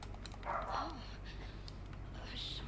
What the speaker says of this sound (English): And ignore my dogs there. That's all they do is bark,